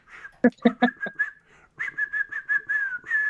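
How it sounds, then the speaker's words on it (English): A shrill whistle tone sounds in short repeated blasts and longer held notes, with brief percussive hits mixed in near the start. "Blow your whistle."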